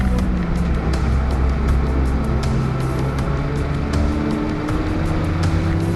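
A race car engine in a GTi racing video game drones loud and steady throughout, with continuous revving tones and quick clicking ticks over the top, and no voices.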